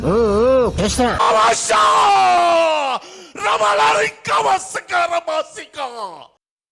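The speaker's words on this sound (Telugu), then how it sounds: "అరుస్తున్నాడు భయ్యుడు." Someone shouts loudly and angrily in a church-style confrontation, his voice raised in long strained bellows and then in shorter bursts before it stops abruptly.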